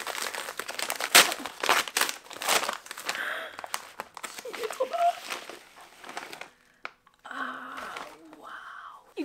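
A cardboard parcel holding books and stationery is opened and unwrapped by hand, with close crinkling, tearing and rustling of paper and packaging, and someone speaking in between.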